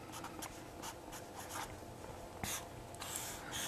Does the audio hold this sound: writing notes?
yes